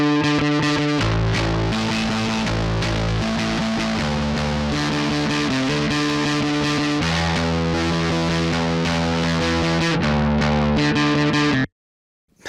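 Burier saturation plugin by Kit Plugins at maximum drive, thickening a dense, distorted music loop with buzzing, fuzzy harmonics and sustained low notes, loud and continuous before cutting abruptly to silence near the end.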